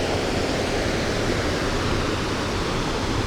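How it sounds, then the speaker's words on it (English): Fast-flowing river water on the River Soar at Zouch, swollen after heavy showers, a steady broadband rushing roar that holds constant throughout with no talk. "there's a lot of water in the river"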